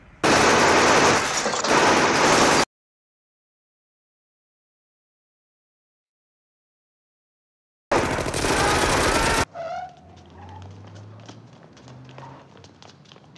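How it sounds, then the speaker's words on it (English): Automatic gunfire from the causeway ambush in The Godfather (1972), two bursts of loud, dense, clipped rapid fire separated by a long silent gap, followed by quieter scene noise. "shot Sonny on the causeway"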